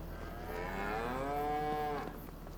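A single long, loud cow moo in the Farming Simulator 25 video game, drawn out for about two seconds from a pen of 60 cattle, heard alone over a low steady hum.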